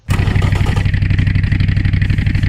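A simulated car engine in Automation or BeamNG.drive idles steadily at low RPM with a loud, throbbing, even pulse like a Harley V-twin, running alone without talk.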